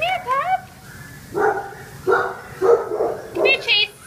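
A dog at an animal shelter gives a short whine, then four separate barks at a steady pace, fairly close and loud over a low background hum.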